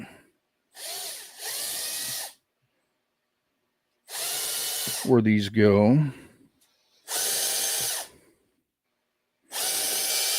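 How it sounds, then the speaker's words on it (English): Power drill boring holes in a geocache container, heard as four loud, steady whirring bursts of a second or two each, with a short stretch of nearby talk between them. "and then we're just going to drill out"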